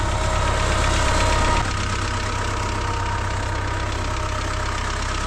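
Tractor engine running steadily with a slipping clutch, a loud mid-pitched knocking drone that drops slightly in level after a second or so and carries on alone with no talk.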